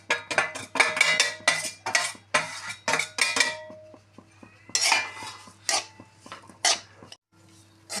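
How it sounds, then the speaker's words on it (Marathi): A metal spoon clinks and scrapes against a pan as sesame burfi ingredients and grated coconut are mixed over low heat, giving rapid uneven clatters close up with brief pauses between bursts. "सर्व जिन्नस आपण छानपैकी एकजीव करून घेऊ."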